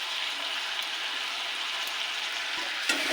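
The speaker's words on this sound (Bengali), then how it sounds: "এটাকে আরেকটু ভালো করে ভেজে নেব এবার দিয়ে দেবো টমেটো কুচি লঙ্কা আর পোস্ত বাটা" Potato sizzles and fries steadily in hot oil for aloo posto, with tomato, chilli and poppy seed paste about to go in. The hiss is loud and close and continuous, with a small clink near the end.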